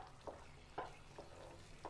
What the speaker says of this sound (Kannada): ಮಿಕ್ಸ್ ಮಾಡಿಕೊಂಡು ಒಂದೆರಡರಿಂದ ಮೂರು ನಿಮಿಷ ಬೇಯಿಸ್ಕೊಳ್ಳೋಣ.